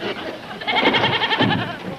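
A goat bleats close by, a wavering, nasal cry in two pulses lasting about a second, with faint voices around it.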